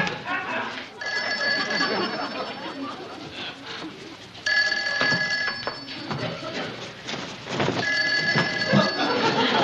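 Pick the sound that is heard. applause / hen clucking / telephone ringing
telephone ringing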